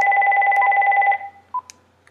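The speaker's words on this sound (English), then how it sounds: "the phone is ringing" A telephone rings loud and close with a fast electronic warbling tone for about a second, then cuts off, followed by a couple of short beeps.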